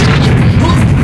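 A shotgun fires in the first-person shooter First Encounter, a loud, heavy booming blast that fills the short moment with dense game noise and a deep rumble.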